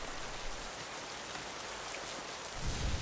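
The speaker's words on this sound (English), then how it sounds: "It's raining again today, harder than yesterday." Steady, hard rain falls throughout, a dense even hiss that swells slightly louder near the end, with no voices.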